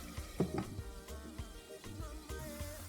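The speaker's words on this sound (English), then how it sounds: "because of the size of the pepper I'm frying, I don't really need to put too much salt" Pepper frying and simmering in a pot on the stove while cooking Gbegiri and Ewedu soup, a soft continuous sizzle with intermittent stirring clinks and low bubbling, close and fairly quiet.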